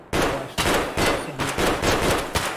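Gunshots from a firearm in the video game Escape from Tarkov, set in the Factory map, about five sharp loud bursts spaced roughly half a second apart, close and alone without talk.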